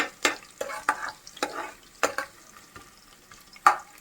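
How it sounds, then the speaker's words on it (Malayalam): Small shallots sautéing in hot oil in a pan, heard as a series of sharp, close stirring scrapes and spatula strokes over a soft, low sizzle, with quiet gaps between the bursts. "നന്നായിട്ട് വഴന്ന് കഴിയുമ്പോ ചെറിയ ഉള്ളി ഇടും."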